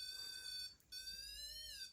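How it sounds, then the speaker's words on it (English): A steampunk REMPOD ghost-hunting device beeps as it calibrates, giving two steady electronic tones separated by a brief gap, the second shifting slightly in pitch, quiet and close with no speech. "switch the unit on, you'll hear it beep to calibrate"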